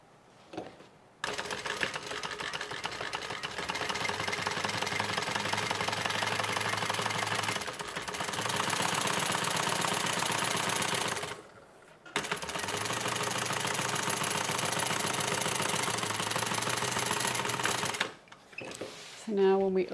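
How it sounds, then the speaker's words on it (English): A sewing machine stitches a tote bag alongside the stabilizer, running in three long steady bursts of rapid mechanical chatter separated by short pauses. "I'm going to turn this and stitch next to the stabilizer"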